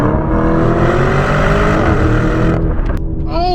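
A Lamborghini Urus SUV engine revs hard and loud under acceleration, a steady rising roar with harmonic sweeps that breaks off near the end as the revs drop.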